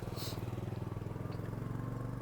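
Motorcycles carrying bikers on a high mountain road near Umling La rumble with a steady pulsing engine throb, close and fairly quiet, holding an even beat for a couple of seconds.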